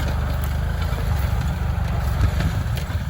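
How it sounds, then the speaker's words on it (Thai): Farm tractor engine running steadily while plowing an old rubber plantation, a loud, continuous low rumble with a dense pulsing throb throughout and no voices. "ลูกน้องนี่ขับรถไถ"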